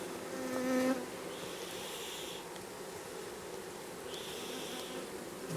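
Honeybees hum steadily at close range at an open hive, a dense continuous buzz with individual bees droning louder as they pass near.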